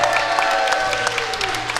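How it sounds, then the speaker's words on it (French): Audience applause at a live podcast festival event in Rennes, a dense, steady wash of clapping throughout the short stretch, fairly loud with a faint tonal hum underneath. "Un grand applaudissement pour eux."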